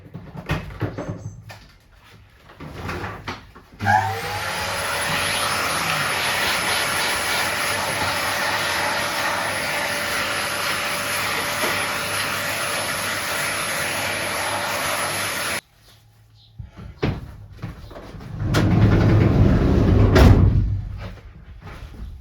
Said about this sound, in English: Just going to hoover that up a minute.